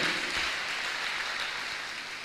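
A church congregation applauds and cheers continuously in a steady wash of clapping, fairly loud and even throughout, with no talk over it.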